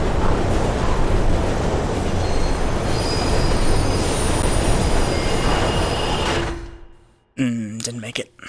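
Loud, steady rumble of a train rolling along the tracks for several seconds in the video game Mirror's Edge, with faint squealing tones, then it cuts out and a voice speaks briefly.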